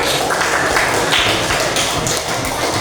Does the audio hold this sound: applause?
yes